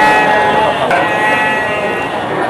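Female Garut sheep bleat amid the steady crowd din of the Tanjungsari sheep market in Sumedang, their calls blending into a loud, dense background of voices and livestock noise.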